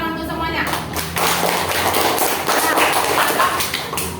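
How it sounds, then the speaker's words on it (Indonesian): Classroom students clapping together as a group, a brisk patter of hand claps and taps running throughout and mixed with voices speaking nearby. "Kasih tepuk tangan untuk semuanya."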